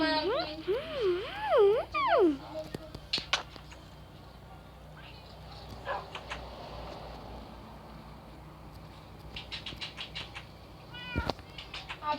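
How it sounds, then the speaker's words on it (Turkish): A cat meows several times in a row, loud and close, its rising and falling cries standing out at the start, followed by rustling, light knocks and a few faint chirps over soft wind noise. "Ve Sema'nın kedisi"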